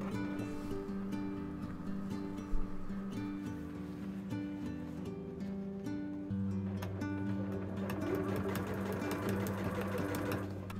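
A sewing machine stitches two dress lining layers together along the armhole and front opening. Its steady, close mechanical whir runs continuously with no talking.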